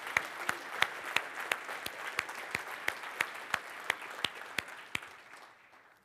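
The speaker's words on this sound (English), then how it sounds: "Okay, it's early, so I promise that's like the last of the clapping." Conference keynote audience applause, a soft wash of clapping with several sharp distinct claps standing out, fading away toward the end.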